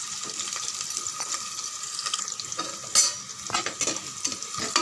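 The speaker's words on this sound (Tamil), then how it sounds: "பாதி அளவுக்கு வெங்காயம் வதங்கினா போதும் ஃப்ரெண்ட்ஸ்." Onions frying in hot oil with a small piece of cinnamon and three cloves for chicken kuzhambu, a steady close sizzle broken by stirring scrapes and a sharper clatter near the middle, with no voices.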